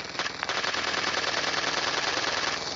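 Minigun fire in PUBG Mobile's zombie mode, a continuous rapid rattle of shots that starts after a brief pause and runs unbroken, steady and loud, with no talking over it.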